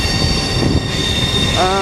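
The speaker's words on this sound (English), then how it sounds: "we've got a train going out with empty cars" A train of empty cars pulling out on a Brisbane line, a loud steady rumble of wheels with a high squeal rising near the end, heard close by.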